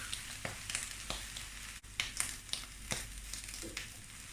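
Keto okonomiyaki, a Japanese savory pancake, frying in a pan with a steady soft sizzle and a few scattered crackles and pops, close and alone with no talking.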